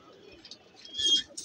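A pigeon gives a soft, close, throaty coo that swells briefly near the end after quieter murmurs.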